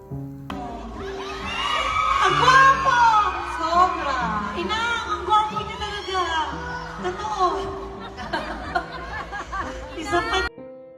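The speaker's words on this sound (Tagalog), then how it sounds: "Grabe ang hiyawan sa kapugihan ni Paulo" A crowd screams and cheers for actor Paulo Avelino at a medical group event, loud excited shrieks and chatter swelling throughout, with voices mixed in.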